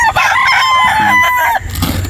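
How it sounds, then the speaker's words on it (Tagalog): A rooster crows once, loud and close, with a drawn-out call that fades into faint background noise. "Ito po yung manok niya."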